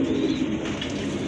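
A pair of large pigeons coos steadily, a low continuous throaty rumble with faint chirps and a slight flutter in the background.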